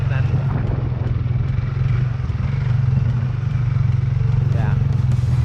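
A Honda 300 4x4 ATV drives over rough, muddy ground, its engine a loud, close, continuous drone with slight rises and falls in effort.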